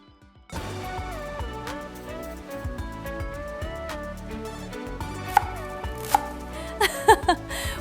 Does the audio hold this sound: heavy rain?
no